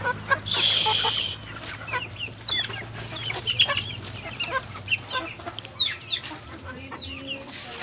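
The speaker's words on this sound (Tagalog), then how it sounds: "Maraming manok po. Yung pong mga manok po yan," Chickens at a family home cluck and chatter at close range, with a burst of louder squawking near the start followed by scattered, overlapping clucks against a low background hum.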